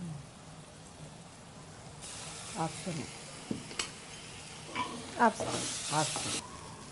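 Turmeric and ginger garlic paste fry in a pan for a sprouts tomato curry. A soft, quiet sizzle runs under scattered spoon clinks and stirring scrapes.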